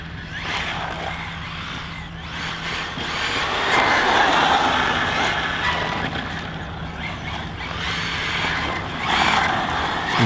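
A ZD Racing EX-07 RC drift car on a 4S battery driving over a gravel driveway, its motor whine swelling and fading in repeated passes amid gritty crunching of loose stones.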